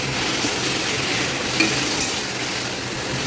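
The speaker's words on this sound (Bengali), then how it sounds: "আবার ভালো করে এটাকে ফ্রাই করবো, অনেকক্ষণ ধরে এটাকে ফ্রাই করতে হবে।" Chicken frying with green chilies in a pan for a brown chicken dish, a loud continuous sizzle with soft stirring scrapes and a faint clink of utensil against the pan.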